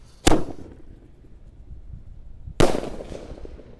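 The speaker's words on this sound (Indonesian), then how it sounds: "lanjut kita nyalakan mercon yang banter selanjutnya, namanya elang mas guys" An Elang Mas firecracker goes off in two sharp, loud blasts about two seconds apart, each dying away into quiet between them.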